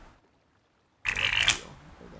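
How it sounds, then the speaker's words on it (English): A deck of playing cards shuffled close to the microphone, one quick riffle with a crisp, fluttering burst lasting under a second after a quiet pause. "that's me shuffling cards"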